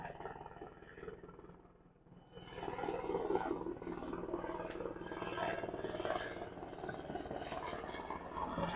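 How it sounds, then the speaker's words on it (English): Helicopter from Sector San Diego passing over an outdoor military cemetery service, a broad steady rotor and engine rumble that swells after a brief lull and holds loud and continuous to the end, with no voices over it. "Does this copter out of LA?"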